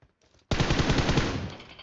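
A sudden, loud burst of automatic gunfire in PUBG Mobile that erupts after a brief near-silence and rattles on steadily to the end.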